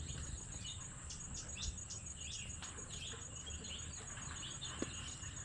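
Birds such as parrots, koels and sparrows feeding in sapota and guava trees: scattered faint chirps and tweets at a distance over a steady insect drone, with no one talking.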